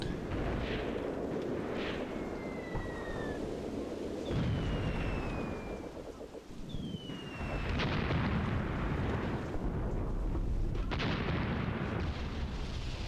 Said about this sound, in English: we're taking some artillery fire, it looks like, some mortars.